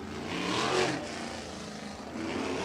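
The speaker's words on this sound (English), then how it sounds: "pace truck making its way down the front straightaway" A Toyota pace truck drives down the front straightaway at Lawrenceburg Speedway, its engine swelling as it passes and then settling into a steady mid-range hum.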